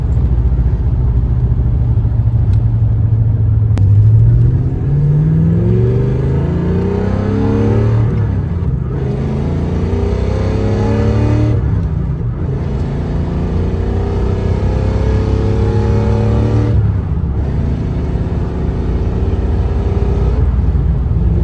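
A Porsche 928 S4 with a stainless header-back exhaust revs and accelerates hard with a throaty exhaust note, rising through the gears in repeated sweeps, loud and close throughout.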